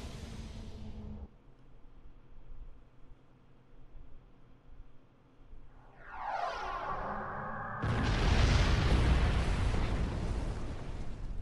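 Star Trek starship weapons fire in a rising whoosh, followed by a loud, sustained explosive roar that fills the space after a quieter rumbling stretch.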